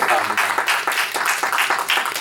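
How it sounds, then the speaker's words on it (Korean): A church congregation gives a round of applause during a Sunday sermon, dense and continuous clapping from many hands filling the room. "하나님 앞에 다시 한번 영광의 박수 한번 올려드리겠습니다"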